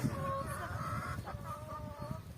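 Farm chickens clucking excitedly over thrown bread on a muddy day, several birds making overlapping close clucks and short calls in a brief busy burst.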